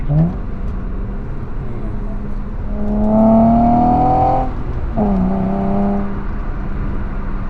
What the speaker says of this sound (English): it almost sounds like a sporty factory exhaust